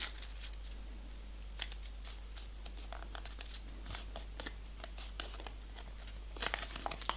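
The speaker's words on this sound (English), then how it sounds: "Now fold this corner to this corner." Paper being folded into a small 3D origami bird: a string of short, crisp crinkles and creasing rustles, close and fairly quiet, some in quick clusters, over a faint steady low hum and no talk.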